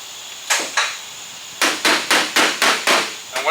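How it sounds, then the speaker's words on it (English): Metal hammer striking a damaged car body panel to work out low spots: two sharp ringing blows, a pause, then six evenly spaced hits, loud and close with no voices. "I'm going to find the low spots that I still have in it, which is right here, and I'm going to pull out and hammer"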